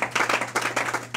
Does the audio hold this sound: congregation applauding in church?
yes